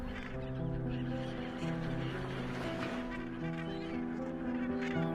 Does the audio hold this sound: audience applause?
no